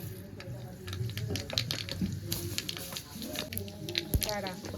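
Crackling, spattering sizzle of mustard seeds popping in hot oil, with scattered sharp pops over a steady hiss and a voice talking faintly in the background.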